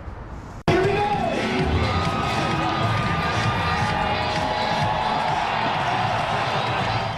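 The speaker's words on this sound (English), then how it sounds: "Perhaps the only competition where failure to fly is rewarded with cheers" A large outdoor crowd at a Flugtag homemade-flying-machine competition on the Willamette River bursts into loud cheering and whooping after a brief lull, sustaining a dense roar with scattered shouts throughout.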